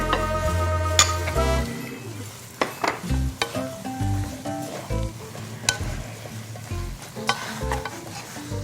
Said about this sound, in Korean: 그래서 깻잎이 숨이 죽을 때까지 섞어주세요